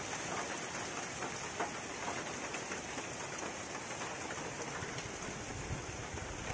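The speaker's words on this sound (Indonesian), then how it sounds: "Heeh, hujannya kacau." Heavy rain falling outdoors at a fishing spot, a dense continuous hiss of drops hitting surfaces, steady and loud throughout with no break.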